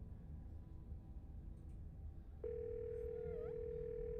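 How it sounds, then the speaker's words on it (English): Telephone dial tone in the video game Scarlet Hollow cuts in abruptly partway through after faint background hum, then holds as a steady, clear continuous tone to the end. "You can hear something drop violently on the other end and then a dial tone"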